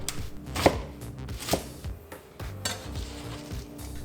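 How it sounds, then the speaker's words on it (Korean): A knife cuts half a cabbage into strips about 2 cm wide on a cutting board, a few sharp knocks against the board among softer crunching and shuffling, close and clear. "양배추는 반통, 가로 2cm 정도로 잘라주세요."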